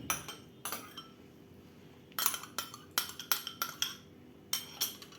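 A utensil stirring yogurt into warm milk in a container, producing irregular clinks and taps against the sides in short clusters over a quiet background, close by and without talk.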